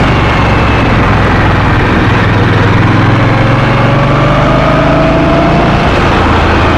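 An Indian Scout 139 motorcycle engine runs loud and close while riding, a steady throbbing drone that slowly rises in pitch as it accelerates.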